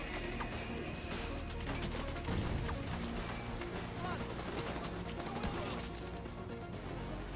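Sustained turret and gunfire in The Division 2, a dense unbroken rattle of shots and impacts running the whole stretch without pause, loud and busy with battle noise layered underneath.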